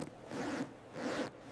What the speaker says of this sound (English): The zipper is stuck. I cannot take off my jacket.